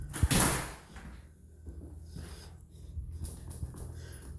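A new coded school door lock is released and the door swung open, giving a sharp latch clunk followed by softer scraping and shuffling handling noises at close range.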